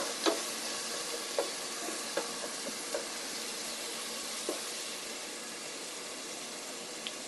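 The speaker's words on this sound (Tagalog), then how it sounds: "I-brownish po natin ng konti itong bawang bago natin ihulog yung ating sibuyas." Garlic browning in a frying pan gives a steady soft sizzle that runs throughout, broken by a few sharp stirring clicks spaced a second or so apart, with no voices.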